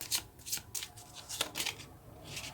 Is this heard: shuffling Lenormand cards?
yes